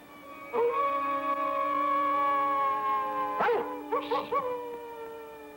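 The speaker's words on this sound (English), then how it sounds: "It's only Mr. Timberwolf howling at the moon." Timberwolf howling at night, a long sustained tonal howl followed by several shorter wavering howls, moderately loud.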